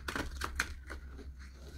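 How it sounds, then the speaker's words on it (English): A tarot deck shuffled quietly sideways, giving a quick run of soft, close papery riffles and taps that fade into low room hum, with no talking. "I'm going to do a quiet shuffle sideways."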